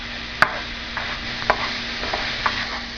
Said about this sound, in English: So I'm going to keep chopping up these mushrooms and giving them a stir in the pan.